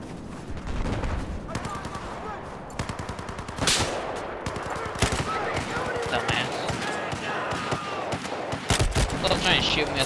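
Rapid bursts of RPK machine gun fire ring out in a Battlefield 4 match, sharp repeated cracks in short volleys with a few heavier blasts, while players talk over the shooting.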